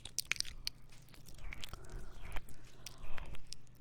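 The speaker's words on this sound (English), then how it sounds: "I'm just chewing on a microphone." Someone chews on a microphone for ASMR, making close, crunchy bites and wet scraping clicks in irregular bursts, loud and intimate with no talking.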